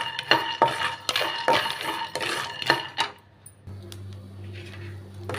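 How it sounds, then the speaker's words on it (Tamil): Peanuts dry-roasting in a pan for sesame ladoos, a series of rattling scrapes and clinks as a spoon stirs them, followed by a quieter stretch with a low steady hum, no speech. "ஒரு பவுல் அளவு வந்து நிலக்கடலை எடுத்துருக்கேங்க அதையும் சேர்த்துக்கிறேன் அதையும் நல்லா வறுத்துக்கலாம்"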